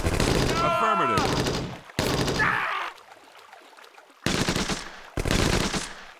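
Heavy rapid gunfire in the World War II game Blitzkrieg Rolling Thunder during an Omaha Beach invasion, loud bursts broken by short pauses and mixed with shouting voices.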